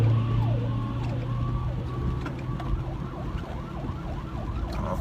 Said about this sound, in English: There's a fire engine trying to get out, and I'm letting him go.